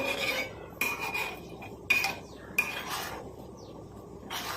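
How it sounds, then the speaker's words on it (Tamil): A utensil scrapes and stirs inside a pan of boiling oil in several short, irregular strokes, close up, with a faint sizzle between them. "கையெடுக்காமல் இந்த மாதிரி கிண்டி விட்டுக்கிட்டே இருங்க"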